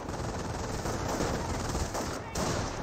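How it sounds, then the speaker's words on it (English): A rifleman squad fires in a Company of Heroes battle, dense overlapping rifle and automatic gunfire crackling steadily throughout, loud and continuous with brief dips. "We're seeing more fire from the Rifleman squad."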